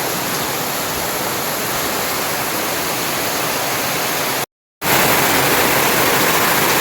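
Heavy rain pours in a hillside village near Mirik, Darjeeling, as a loud, dense, unbroken hiss that cuts out for a moment and then resumes at full strength, with no voices over it.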